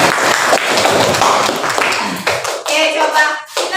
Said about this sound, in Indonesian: kita kasih aplaus dulu buat temannya